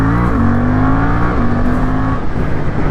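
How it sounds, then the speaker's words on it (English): A Suzuki GSX-8S naked motorcycle engine pulls hard through its low-to-mid range on throttle, a steady loud rising drone with a brief gear-change dip, heard alone and close throughout. "where it makes its power is kind of in that low to mid-range torque application of the throttle, like right here"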